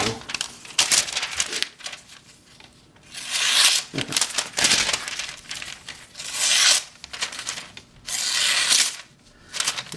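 A Bark River Featherweight Fox River fixed-blade knife slicing through stiff, hard-to-cut paper: several close, rasping swishes and crinkles in separate bursts, with a voice talking in between.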